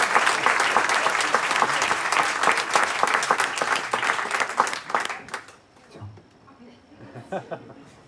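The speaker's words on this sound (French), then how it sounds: "on peut faire du bruit pour Baudouin, s'il vous plaît" An audience at a comedy club bursts into loud, dense applause for about five seconds, then it dies down into scattered claps and low voices.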